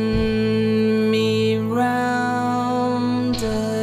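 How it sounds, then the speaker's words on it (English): An a cappella soul vocal sings sustained notes over a steady droning tone, the voice shifting pitch a few times while the drone continues loudly underneath throughout. "So the Tibet version has a drone sound in it that I wanted to get rid of."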